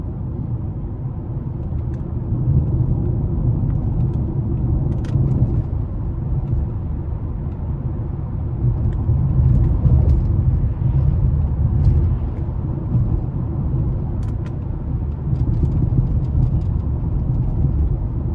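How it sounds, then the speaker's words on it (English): A 2009 Dodge Challenger SRT-8 with a 6.1-liter V8 on a back road, its engine and exhaust giving a steady, loud, deep rumble that swells and eases slightly as it drives, with no talking. "that exhaust note and the sound you get from the engine, oh, it's breathtaking"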